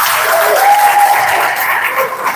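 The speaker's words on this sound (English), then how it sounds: "If you're a designer here, please can you give yourself a round of applause?" Designers in an audience applaud themselves, a steady, dense wash of clapping that holds at an even level for a couple of seconds.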